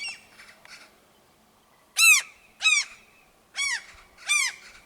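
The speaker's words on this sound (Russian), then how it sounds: "Так, вот мама чайка." A gull calls repeatedly from its nest on a house rooftop: loud, sharp squawking cries in bursts, a short cluster first, then four separate strong calls spaced about half a second apart, close to the listener.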